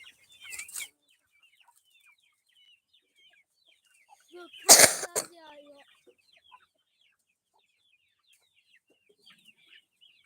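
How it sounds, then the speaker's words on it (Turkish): Chickens cluck and call in short bursts, one louder cluster in the middle, with quiet gaps between and faint chirps. "Orada tavuklar da kirazlıyor."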